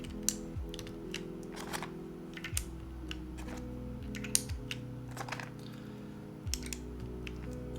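Keycaps pressed onto a custom mechanical keyboard build one after another, giving scattered sharp plastic clicks and taps over a steady low hum, close to the microphone.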